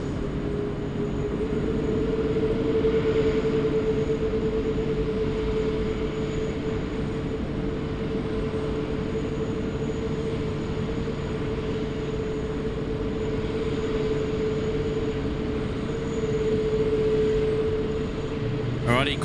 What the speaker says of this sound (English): Qantas 127, the A380, it's departing to Hong Kong, now under taxi.